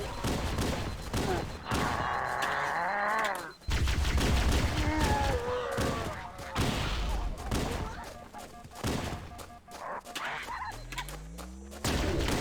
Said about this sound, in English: He's actually able to provide cover fire for me from there.